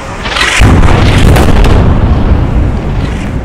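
An Israeli airstrike hits the Al-Shoroq tower, a loud, deep explosion that swells into a heavy rolling boom and rumble, sustained throughout without speech.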